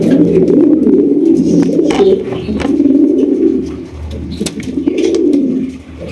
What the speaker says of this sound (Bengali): এত বড় সাইজের কবুতর নিজের ডিম নিজে ফুটাইতেছে